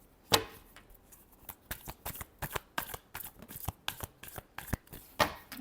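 Tarot cards shuffled by hand in a quiet room, producing a run of sharp, crisp slaps and riffles in an uneven rhythm, close and alone with no talk.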